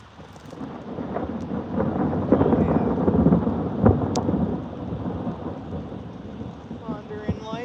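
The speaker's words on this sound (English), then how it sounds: "Thunder and lightning." Thunder rumbles through a steady thunderstorm with rain pattering on surfaces near a creek in Ontario, rising to a loud rolling swell midway, then easing back to the rain's hiss.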